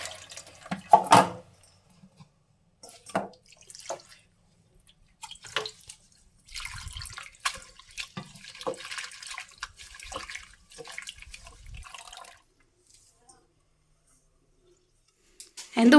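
Fenugreek seeds are rinsed under a running tap in a home kitchen, with intermittent splashing, dripping and water sloshing in bursts and brief pauses between rinses.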